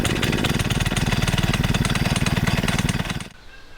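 A PCW5000 portable winch's small gas engine catches and runs with a loud, rapid, buzzy chug close by, steady for about three seconds before abruptly dropping to a much quieter idle.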